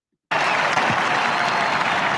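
A crowd applauding at a political speech, a sudden burst of dense clapping that starts abruptly and continues steadily for about two seconds.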